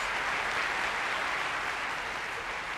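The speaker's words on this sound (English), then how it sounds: "The conductor enters to thunderous applause." Thunderous applause in a concert hall as an orchestra's conductor walks on: a thick, continuous roar of many hands from a large audience, loud and unbroken from start to finish.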